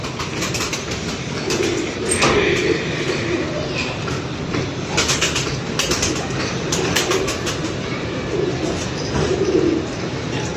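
Pigeons coo at a pigeon-keeping loft in Punjab, with soft repeated calls rising over a steady noisy background and scattered sharp bird sounds throughout.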